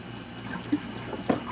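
Leftover coffee poured out into a kitchen sink, a brief faint splash of liquid with a couple of small drip-like hits over low background hum.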